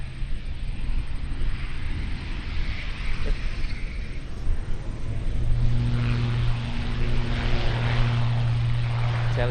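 An ATR turboprop airliner at Auckland Airport, a distant steady propeller drone and rumble that grows slightly louder, with a low sustained tone emerging later, heard outdoors.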